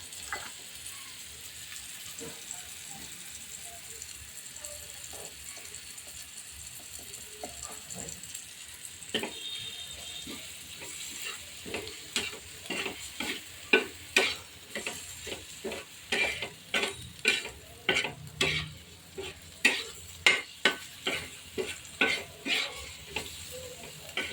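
Spice masala sizzles in a pan while being stirred for paneer bhurji, a steady fry hiss broken by quick, regular spatula scrapes that grow louder and more rhythmic toward the end, with no talking.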